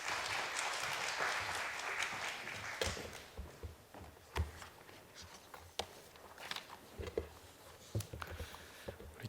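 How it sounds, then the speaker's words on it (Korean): Church congregation clapping at a special Holy Week dawn prayer service to welcome the pastor, steady applause fading into scattered claps and taps with a few voices beneath. "우리 박수로 맞이하겠습니다"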